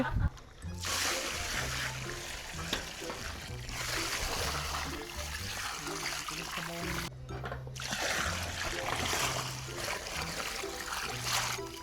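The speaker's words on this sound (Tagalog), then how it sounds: "Lalagyan na tayo ng tubig." Water pours and splashes into a giant kawa (large cooking pot) for chicken arroz caldo in a few long bursts while a person talks over it.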